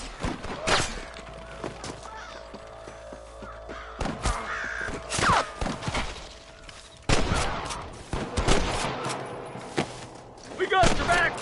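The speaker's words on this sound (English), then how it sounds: "I can hear more gunshots." Scattered loud gunshot bursts crack through a busy game soundscape, with cawing birds and voices mixed in between the shots.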